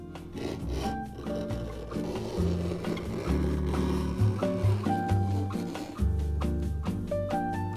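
Abrasive rubbing grinds against the leather sole edge of a rebuilt White's boot with Dr. Sole soles, in repeated close strokes beneath tonal background music.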